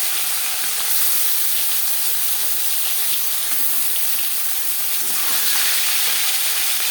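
Fish pieces and a fish head frying in hot oil in a pan give a steady, close sizzling hiss that keeps going with no breaks and swells slightly near the end.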